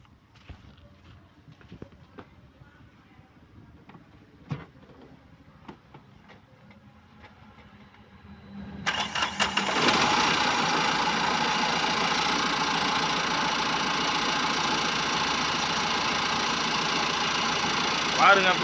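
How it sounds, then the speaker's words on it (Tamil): A 2007 Mahindra Scorpio common rail diesel with injector engine cranks and fires up after quiet handling noises, then settles into a steady, fairly loud idle with a faint knock. "வண்டி பாருங்கள், ஸ்டார்ட் பண்ணி காமிக்கிறேன் பாருங்கள்."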